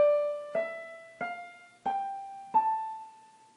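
Five separate notes sound one after another, each struck cleanly and left to ring, on a single melodic instrument playing a natural minor scale. The tone is clear and fairly soft, with no voices.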